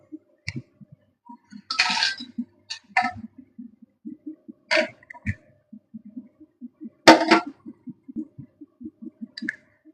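Roasted black pepper tipped from a pan into a metal kitchen vessel gives scattered clinks and short rattling bursts, several close and distinct, between quiet pauses.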